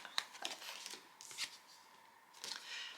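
Tarot cards are drawn and slid from a deck, with several crisp papery flicks and rustles coming in quick bursts, close and fairly soft.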